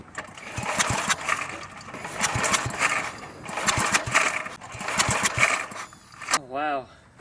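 Industrial small engine being pulled over repeatedly without catching, giving several rhythmic cranking bursts close by, with a brief rising mechanical whine near the end.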